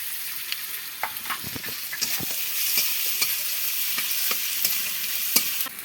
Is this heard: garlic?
yes